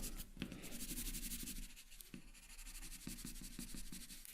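Pencil shading on paper, a close, soft rhythmic scratching of quick back-and-forth strokes with occasional slightly harder taps.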